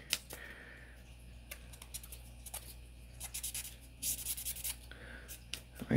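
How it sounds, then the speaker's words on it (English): A cleaning brush scrubs the slide of a Sig Sauer P365 pistol, giving soft, close, irregular bristly rubbing strokes that are quiet, with a few brief louder scratchy bursts. "so scrub those down real good"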